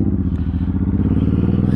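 Suzuki M109R cruiser motorcycle engine rumbling loud and close with a steady low pulsing throb, heard alone without talk.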